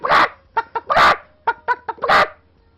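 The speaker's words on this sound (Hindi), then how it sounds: "कुकड़ जो आवाज" A rooster calls close and clear with no other sounds, giving three loud drawn-out bursts separated by short, sharp clucks.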